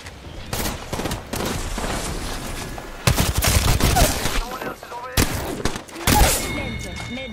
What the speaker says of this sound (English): Listen up, I'm getting shot at. Getting shot at.